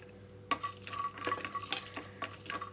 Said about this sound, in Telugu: చూడండి చక్కగా వేగిపోతున్నాయి